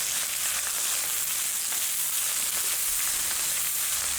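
Washed rice sizzling in oil in a pan for chicken kabsa, a loud, even, continuous hiss of frying close by, with no pauses and no voices.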